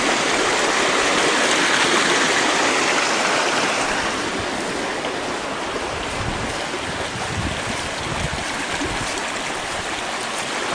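A deep, narrow creek rushes steadily and loudly close by, making a continuous broadband roar with no voices.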